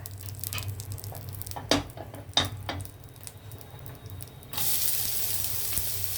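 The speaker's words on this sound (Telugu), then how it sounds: "ఈ మసాలాలు ఆయిల్లో వేసినప్పుడు పేలుతాయి చూసుకోండి" Whole spices go into hot oil in a kitchen pan, giving a few sharp crackling pops over a low hum, then a loud, steady sizzle that holds to the end.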